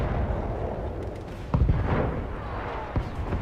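Explosions and artillery fire from mech combat in the video game BattleTech: a few sharp, heavy booms over a low rumbling background, with one big blast midway and another near the end.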